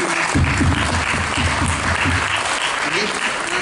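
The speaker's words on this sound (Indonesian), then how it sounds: "Kita beri aplaus dulu untuk Pak Dini ya" An audience at a business collaboration session applauds, a dense, steady burst of clapping that carries through the whole stretch, with a voice faintly audible beneath it.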